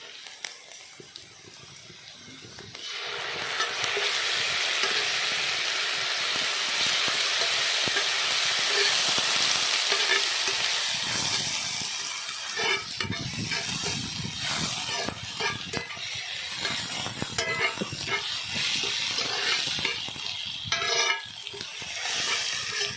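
Ginger garlic paste and red chillies sizzle loudly as they fry and are stirred in a pan for a quail pepper fry, a steady hiss rising after a quiet start, with occasional scraping and no talk over it.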